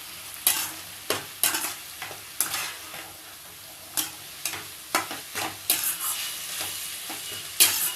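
Tomato and masala spices stirred in a sizzling pan for a lamb intestine curry, with a spoon scraping in irregular strokes over a soft, constant frying hiss.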